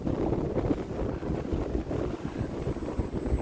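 Strong wind gusts buffet a small Hobbyzone Aeroscout S model airplane flying outdoors, a steady rough roar of wind across the microphone, loud and continuous with no talking.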